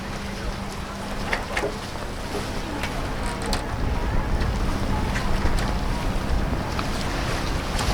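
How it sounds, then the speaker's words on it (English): Wind rushes across the deck of a sailboat racing in the Bocas Regatta, a steady broadband roar with gusty buffeting against the microphone and water noise beneath. "We've got some good wind."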